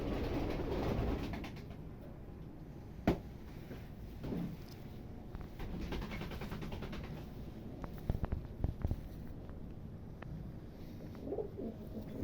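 Flying parwazi pigeons, kept by hobbyists, make soft coos and intermittent sharp wing claps and flutters against a steady low outdoor background, with no voices.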